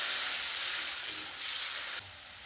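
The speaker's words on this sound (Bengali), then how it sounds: "এবার জল দিয়ে দিচ্ছি" Water hits a hot pan of sizzling spice paste for a beetroot and cauliflower curry, giving a loud, close, steady steamy hiss that drops a little near the end.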